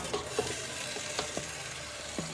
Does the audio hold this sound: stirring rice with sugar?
yes